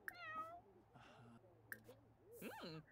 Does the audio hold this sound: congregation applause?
no